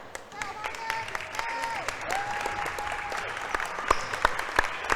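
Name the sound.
crowd cheering as the basketball team enters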